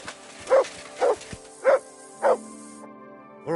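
Mugs the dog barking in Kingdom Come: Deliverance II, four evenly spaced, clear barks close by, followed by a brief quiet tail.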